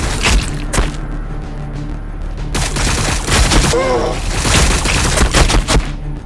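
Gunfire in the Warhammer 40,000: Battlesector video game, bursts of rapid automatic fire and volleys rattling on and off throughout, loud and close, with brief voice snippets mixed in.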